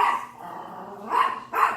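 A dog barks two short, loud, close barks near the end, after a brief low growling sound, with no talking.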